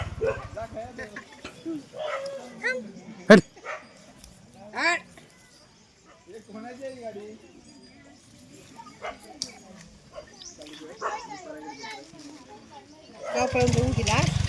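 A dog barks and yips a few times in a Shirale village, Vaibhavwadi, during the centuries-old gaavpalan tradition. The barks come as short, fairly close bursts mixed in with ongoing conversation and other background sounds.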